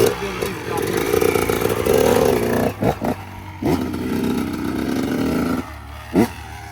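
A 2023 Kawasaki KX112 dirt bike engine revs and pulls in first gear, a buzzing two-stroke drone that rises, cuts out briefly and picks up again with clattering, loud and close.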